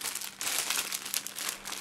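Small plastic bags crinkle and rustle steadily as they are handled up close, a continuous bright crackling with no voices.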